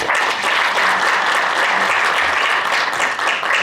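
A crowd at a literature award ceremony applauds warmly, a loud, continuous wall of clapping that stays full for the whole stretch with only slight swells.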